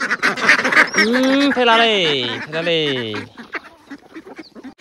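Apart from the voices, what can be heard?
ducks quacking while being fed grain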